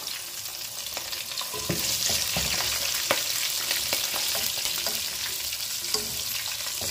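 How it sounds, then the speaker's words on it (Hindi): Cumin seeds crackle and sizzle in hot oil in a pan, a steady bright frying hiss with scattered small pops, close and moderately loud, no talking. "इसमें हम जीरा डाल देंगे"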